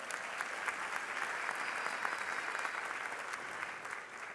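An audience at the Delaware Tech 2022 graduation ceremony in Georgetown applauds in a large hall, a dense, even wash of many hands clapping, heard somewhat distant and sustained throughout.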